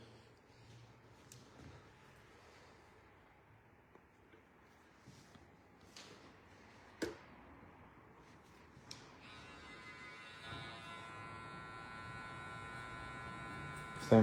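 Electric hair clipper buzzing during a short men's fade haircut, a faint continuous hum with scattered clicks and handling noises, growing steadier and louder toward the end.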